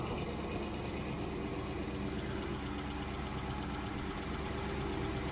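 A Triumph Stag engine with Stromberg CD175 carburettors idles at about 800 rpm, a faint, steady low mechanical hum with a slight rhythmic pulse, continuous throughout and without voices.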